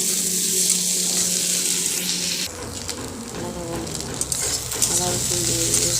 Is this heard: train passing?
no